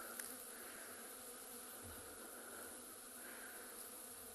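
Bees swarming over a piece of quartz on an evening safari, a steady close insect buzz that fills the whole stretch without pause, with no talking.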